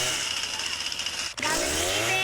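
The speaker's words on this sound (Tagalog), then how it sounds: "Basta may chainsaw ko." A chainsaw revving in a video game, a steady high buzzing engine that briefly cuts out then roars back with a rising pitch sweep, loud and close with no talk over it.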